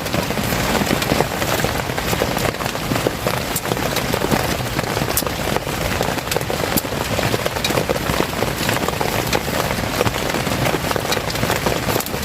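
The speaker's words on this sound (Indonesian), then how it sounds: "nungguin hujan reda" Heavy rain pours onto a closed tent at a solo camp at the foot of a mountain, a dense, constant hiss with scattered sharper drop taps and no voices.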